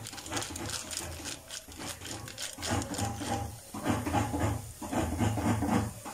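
Chicken masala sautéing in a pan for oats masala dosa, a steady close sizzle and hiss with scraping and stirring strokes that keep going throughout, and no talking.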